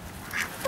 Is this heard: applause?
no